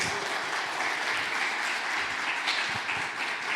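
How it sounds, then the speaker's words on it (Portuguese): Steady, dense applause from a seminar audience at a cultural and health festival event, a continuous wash of many hands clapping at even loudness with no talking over it. "Uma grande salva de palmas para eles."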